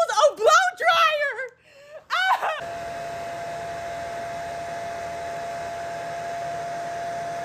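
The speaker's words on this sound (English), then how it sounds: "So I gotta use a blow dryer." A handheld blow dryer switches on after a few seconds of whimpering, giggly vocal sounds and then runs alone as a steady, close, loud whooshing drone with a constant motor whine until the end.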